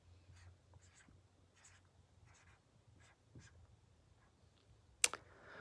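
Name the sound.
writing a word by hand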